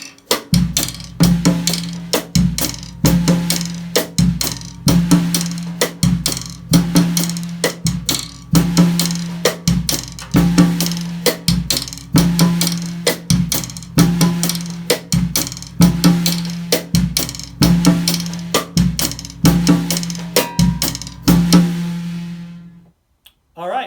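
A drum set plays a steady groove, with a cross-stick click, tom-tom hits and a guiro-style scraping pattern on the snare rim repeating in tight, even cycles, loud and alone until the final strokes die away.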